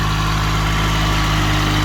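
A four-wheel-drive tractor engine runs loud and close with a steady, unbroken droning rumble, heard alone without any voices.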